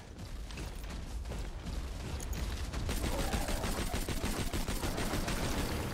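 Gunfire in the Borderlands 2 video game, a fairly quiet run of rapid repeated shots that grows denser and steadier in the second half, with no talking.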